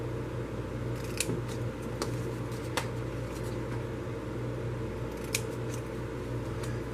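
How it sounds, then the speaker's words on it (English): Scissors snipping paper to cut out a square for a craft box, a handful of crisp, sparse cuts close by over a steady background hum. "We're going to cut out this square right here."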